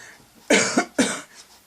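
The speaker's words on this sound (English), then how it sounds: "I'm sorry if I coughed throughout" Two sharp, close coughs in quick succession, loud against a quiet room, with a softer trailing breath afterward.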